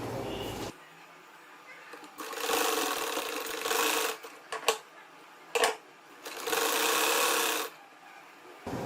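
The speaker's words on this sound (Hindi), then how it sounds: "मैं इसको 5 रखूंगी और सिलाई लगा दूंगी" A sewing machine runs in several bursts of stitching on a girl's kurti shirt, loud and close, separated by brief pauses and clicks, with no voice over the machine.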